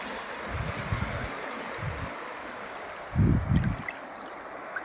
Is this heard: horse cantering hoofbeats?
no